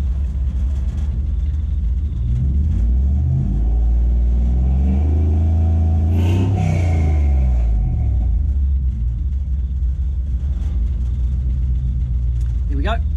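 A car engine being tuned fires up running slightly lean, a deep, close rumble whose pitch swells and falls as it catches and revs, then settles into a steady idle.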